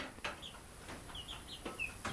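Chickens and guinea fowl give a few short, soft clucks and calls at close range over a quiet background.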